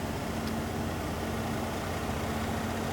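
A 10,000 watt quiet diesel generator idling on a 2001 Tiffin Zephyr motorhome, a steady low drone with a faint hum running evenly throughout, no voices.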